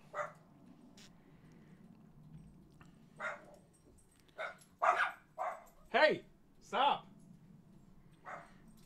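Several dogs bark in short separate bursts, a few single yips early then a cluster of louder barks in the middle, heard from indoors against a low steady hum while someone talks.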